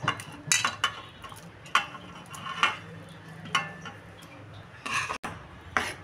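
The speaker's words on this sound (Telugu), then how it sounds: "ఇప్పుడు పన్నీర్ క్యూబ్స్ అన్నీ మొత్తం వేసేసుకోండి." Paneer cubes tumble into a pan of Paneer Butter Masala gravy and get stirred, sharp spoon-on-metal clinks and scrapes landing in irregular bursts over a low background hum, with no voices.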